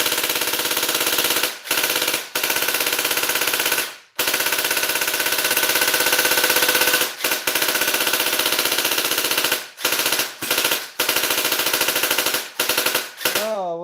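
A battery-powered toy blaster fires in long rapid bursts, a loud buzzing stream of shots broken by several short pauses, the motor slowing toward the end as the battery voltage sags.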